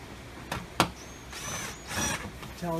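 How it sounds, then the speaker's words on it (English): Power drill driving screws into a Rheem air handler, started slowly with short bursts of whirring interspersed with clicks and metallic knocks, close by, with a brief rising motor whine near the end. "I'm gonna start these out nice and slow so I can get my screws in"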